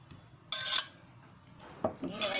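Ghee is spread on a crisp stuffed fried moong dal paratha with a utensil, making a few short, scraping metallic strokes against the griddle, separated by brief pauses.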